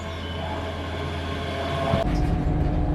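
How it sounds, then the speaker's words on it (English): A train rumbles into Stirling station, a steady mechanical drone with tonal hum, growing louder near the end as the carriages roll closer. "here comes the train to Stirling and Alloa"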